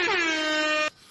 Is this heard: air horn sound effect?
yes